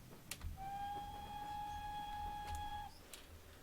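A GWR Large Prairie steam locomotive in Train Simulator gives one sustained, steady whistle blast of about two seconds over a faint running rumble, fairly quiet overall.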